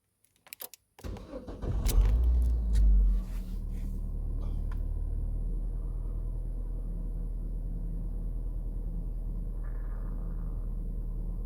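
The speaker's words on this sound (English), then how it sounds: "let's start up the car" A car engine cranks over and fires with a short loud rumble, then settles into a steady low idle that continues to the end, with a faint electric whine rising near the close.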